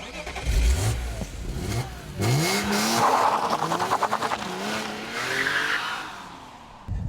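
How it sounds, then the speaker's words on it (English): A 2000 BMW M Coupe's straight-six engine accelerates and revs up through the gears, with a tire squeal, loud and close, and no talking. "this car is all about the potency of that straight six engine"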